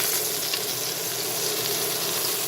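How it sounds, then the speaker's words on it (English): A moose striploin sears in a hot pan with a loud, steady, unbroken sizzle throughout. "You sear it all the way around"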